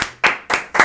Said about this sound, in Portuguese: Uma salva de palmas pro Elisiar.